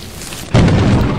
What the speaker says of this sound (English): The tree takes the lightning strike.